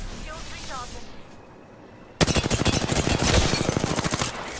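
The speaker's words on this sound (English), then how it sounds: "It's a rampart turret." Rampart's turret in Apex Legends opens up with a sudden, loud, rapid burst of automatic fire that keeps hammering close by for over two seconds, after a quieter stretch of distant game ambience and a brief whooshing sweep.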